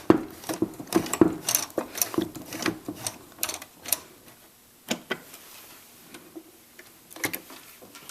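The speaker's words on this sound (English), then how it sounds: "And now I'm going to take a few stitches backwards." Sewing machine running in short bursts while stitching a fabric challah cover, a quick rhythmic ticking of needle strokes, close and fairly loud, then fading to sparse clicks with brief pauses.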